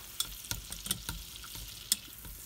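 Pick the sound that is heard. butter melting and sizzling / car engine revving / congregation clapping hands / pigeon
butter melting and sizzling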